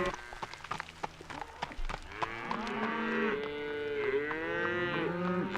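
Cattle mooing on a morning cattle drive through town toward a summer pasture, with several overlapping long, drawn-out calls close by, the lowing growing fuller and more continuous in the second half, with faint hoof and movement noise underneath.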